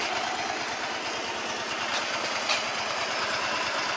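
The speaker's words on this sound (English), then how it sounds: "That engine just sounds so quiet, doesn't it? The exhaust is even pretty quiet." A small 125cc twin-cylinder motorbike engine idles steadily, a soft even putter close by, with no voices.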